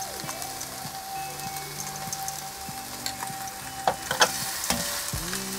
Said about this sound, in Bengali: দিয়ে নাড়াচাড়া করে মিশিয়ে নিচ্ছি।